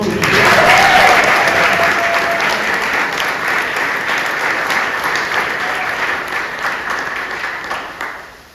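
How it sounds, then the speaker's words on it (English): Applause at a university basketball introductory press conference, a sustained round of clapping from a room full of people that swells early, holds steady and then fades out. "a round of applause is in order for the women's basketball team."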